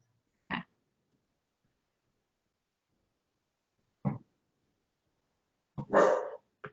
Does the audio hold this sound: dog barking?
yes